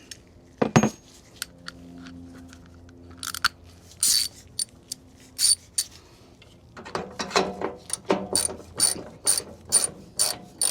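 Ratchet wrench loosening a bolt on the fuel tank of a Massey Ferguson 65 tractor: close, sharp pawl clicks, scattered early, then a steady rhythmic run of about a dozen quick ratcheting strokes toward the end, with no talk.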